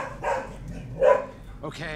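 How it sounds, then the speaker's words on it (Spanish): A pet dog barks a couple of times somewhere nearby indoors, the short yaps mixed in with someone talking over them. "ha sonado mi perro ladrando por aquí"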